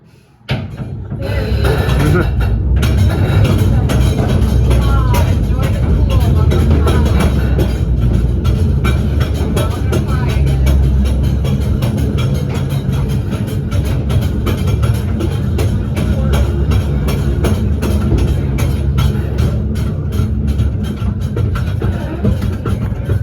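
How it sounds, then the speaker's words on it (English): An old amusement park train at Silver Dollar City rumbles steadily along its track with continuous low mechanical noise and occasional clacks, loud and close throughout. "This train's pretty old. Here we go in 3, 2, 1, blast off!"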